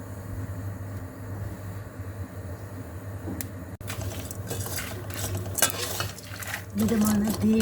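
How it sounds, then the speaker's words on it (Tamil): Peanuts, chana dal, desiccated coconut and mustard seeds being dry-roasted and stirred in a pan over medium heat, with soft rustling and scraping, a sharp metallic clink, and a louder hum near the end, no talking. "மிதமான தீயில நல்லா வறுத்து எடுத்துக்கலாம்."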